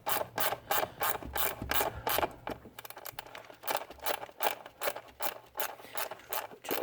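A hose clamp on a Volvo PCV tube being tightened with a ratchet, producing quick, evenly spaced metallic clicks up close, with a short pause partway through and no talking.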